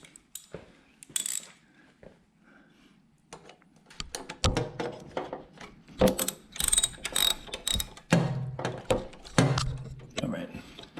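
Rapid ratchet clicks in repeated bursts as a socket wrench tightens pulley bolts on a Honda 928WAS snowthrower during auger and drive belt replacement, loud and close, with brief pauses and faint handling noise between runs.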